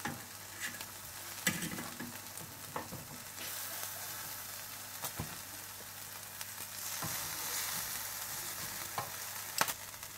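Quiet, continuous sizzling of mutton chops on a grill, a steady hiss with scattered small crackles and pops throughout, no voices.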